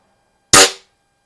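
A Quackenbush Model 5 .22 combination air rifle fires a 14.3-grain Crosman pellet, giving a single sharp, loud report up close that rings out briefly and then falls to silence.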